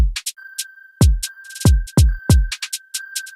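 Deep kick drum thumps land in a syncopated pattern under crisp hi-hat ticks and a sustained synth tone, in a flipped beat being built.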